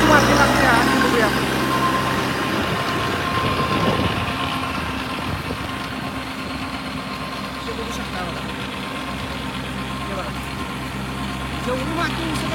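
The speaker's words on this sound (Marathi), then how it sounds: "परत आता ट्रॅक्टर चाललाय" Tractor running steadily while earthing up soil around sugarcane in a field, a constant mid-pitched engine drone with a slightly louder stretch early on, with voices talking over it.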